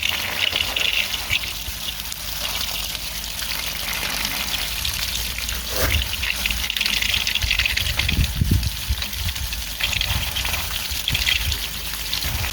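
Water gushing steadily from a hose flushing sludge out of a household radiator, a continuous close splashing rush that carries on throughout with slight surges.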